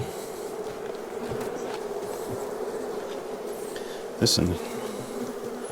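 Honeybees hum in a thick, constant drone close up at an open ten-frame hive, with a brief knock or scrape partway through.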